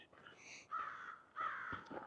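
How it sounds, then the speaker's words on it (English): Crows caw outdoors on an afternoon in two or three harsh, drawn-out bursts, moderately close but fairly quiet, with short pauses between them. "those crows are letting me know that they're here"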